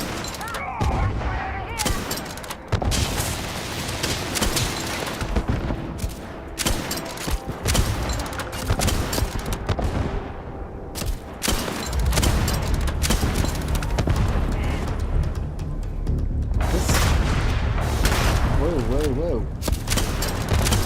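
Enemy gunfire during a deathmatch in the video game Starfield, dense and loud bursts of shots and booms rattling almost continuously for the whole stretch, with a player's brief exclamation over the battle noise.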